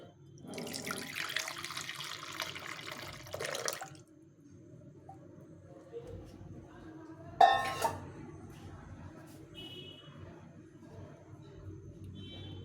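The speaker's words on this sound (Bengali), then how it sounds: "এখন আমি একটা পাত্র নিয়েছি এটার মধ্যে ঢেলে নেব দুধটাকে" Half a litre of boiled-down milk pours into a pot for home-set yogurt in a soft, steady liquid stream lasting about three seconds, followed by quiet and a brief clatter of kitchenware.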